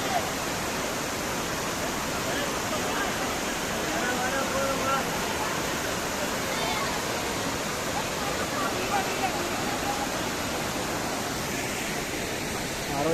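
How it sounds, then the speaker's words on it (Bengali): A waterfall in the Meghalaya hills roars steadily nearby, a dense, unbroken rush of falling water that fills the whole stretch. A voice speaks faintly under it. "জলটা শেষ পর্যন্ত এই নিচ দিয়ে গেছে, এই যে এটা দিয়ে জলটা এবং নিচে যাচ্ছে। এটা আমাদের ফল।"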